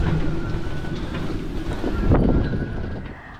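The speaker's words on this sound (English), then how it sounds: "at this point the wind was too strong and it was too difficult to stand up" Strong wind buffets the microphone on a harbour pontoon during a lifeboat rescue arrival at Stranraer, a loud steady rushing roar that swells briefly near the end with no voices.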